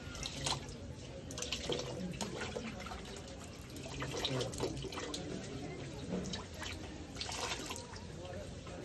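Water runs steadily from a faucet in a flood-hit home after a typhoon, a faint continuous splashing and trickling with occasional drips, while people talk quietly nearby.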